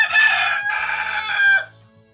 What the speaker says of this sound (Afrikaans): kraai